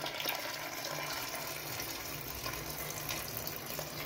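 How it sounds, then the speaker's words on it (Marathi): Water pours steadily into a pot of spiced peas for ragda, a continuous close rushing and splashing flow with no voices. "पाणी टाकून घ्यायचे"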